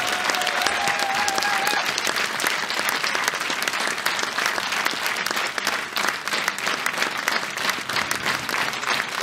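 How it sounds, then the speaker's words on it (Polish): Sustained loud applause from a concert audience at an anniversary performance by a mine orchestra, dense continuous clapping filling the whole stretch, with a faint lingering tone at the start. "oraz jeszcze wielkie brawa, piękne wykonania, piękne aranżacje."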